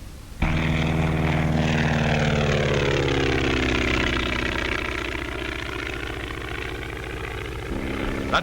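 Propeller aircraft engine during aerobatic stunt flying with loops and Immelmann turns, a sustained loud drone whose pitch slowly sweeps down and then levels, as if passing or changing attitude, with no talking.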